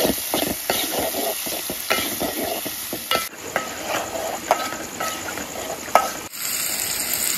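Tomatoes drop into a hot frying pan at a night campsite, setting off loud, close sizzling and crackling while a spoon scrapes and stirs in repeated strokes, with a few sharp clinks near the end.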